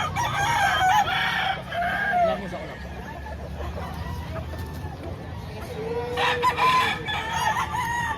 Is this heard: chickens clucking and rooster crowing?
yes